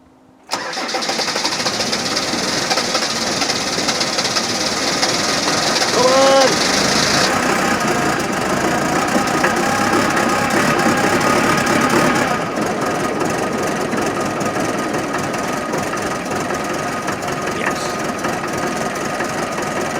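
A diesel engine warmed by glow plugs cranks briefly and catches near the start, then settles into a steady, fairly loud idle that runs to the end, with a high whine fading after a few seconds.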